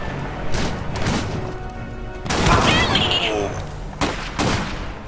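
Rapid gunfire and explosive bursts in the strategy game Iron Harvest, loud crackling volleys and booms in clusters amid battle din, with short voiced unit callouts mixed in.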